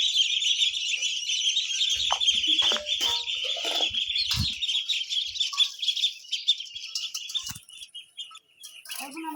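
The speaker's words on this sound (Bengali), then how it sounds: "হাঁস মুরগি সকালে ছেড়ে দিল।" Chickens and ducks released in the morning in a rural yard give a busy chorus of high chirps, peeps and clucks, with occasional scratching and a few low thumps, steady and fairly close throughout.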